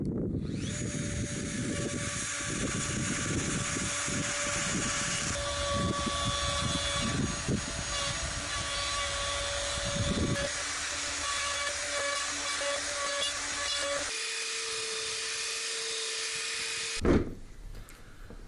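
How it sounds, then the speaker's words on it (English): A router fitted with a large 1 to 1.5 inch mortising bit rides back and forth on a track, flattening a wood slab for a guitar build. It gives a steady, loud high-pitched whine with a grinding cut below it, then spins down near the end. "the router sits in this track and moves back and forth to give a level cut to whatever's beneath it"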